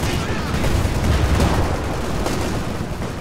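Bazooka and heavy weapon fire in a war video game battle, a dense rumbling barrage of booms and blasts rolling on loudly for a few seconds.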